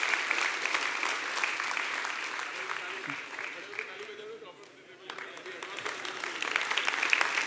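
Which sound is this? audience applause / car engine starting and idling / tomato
audience applause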